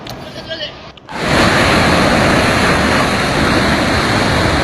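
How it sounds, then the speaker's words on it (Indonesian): Large Pacific Ocean waves crash and roar as heavy surf at Buron, loud and continuous, breaking in abruptly after a quieter opening second and holding as a dense wash. "ombak sangat besar sekali"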